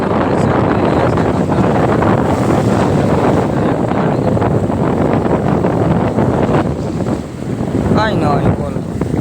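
Strong wind buffets the microphone aboard a fishing boat at sea while waves churn, a loud constant roar with a brief dip near the end and a faint voice in the background.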